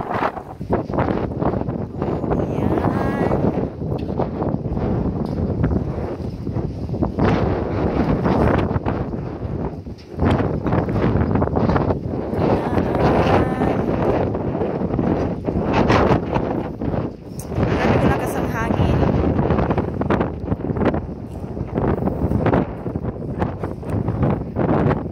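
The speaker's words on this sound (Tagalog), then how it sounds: "kasi malakas yung hangin" Strong outdoor wind buffets the microphone in a loud, continuous rumbling roar that swells and dips for the whole stretch, with no talking over it.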